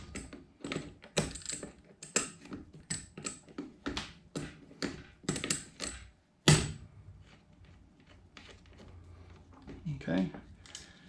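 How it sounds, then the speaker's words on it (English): Repeated sharp metallic clicks and taps from a wrench working on parts during a teardown, steady bursts for several seconds before a pause, with a voice speaking nearby. "I gotta be able to get the wrench in there."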